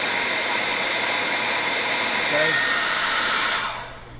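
A heat gun blows hot air while warming a part on a 1961 Dodge Dart, a loud, steady, close whooshing hiss with a constant motor hum, cutting off near the end and leaving a faint low drone.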